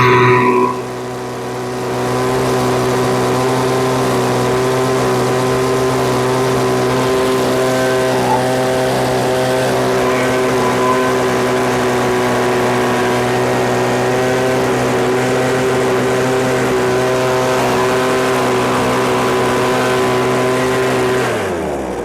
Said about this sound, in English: I'm gonna go for throttle again.